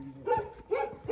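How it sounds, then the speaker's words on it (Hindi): A dog gives two or three short, moderately loud barks or yelps close by at a home, spaced a few tenths of a second apart, with no one speaking. "कुत्ता देखा था मेरा कुत्ता"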